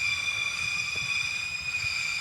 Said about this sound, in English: Oh, the train's back as well, because we're back outside.